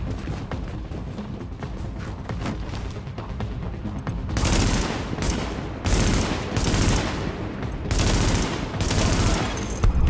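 Heavy bursts of automatic gunfire from The Division shooter game, loud rapid volleys that swell into dense, sustained firefights in the second half, close and intense.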